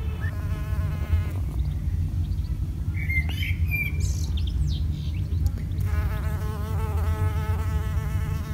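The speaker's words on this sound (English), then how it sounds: "this is where the mining bees like to hang out" Mining bees buzz in a garden around a hole dug for a pond, a constant close insect drone with higher whining passes, while birds chirp faintly in the background.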